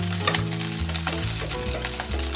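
Chinese fried rice with soy sauce sizzles loudly in a pan as it is stirred, a dense continuous hiss with soft scraping, close up and with no talk.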